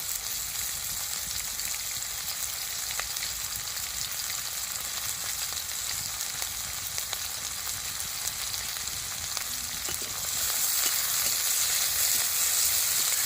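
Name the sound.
chopped onions and green chillies frying in hot oil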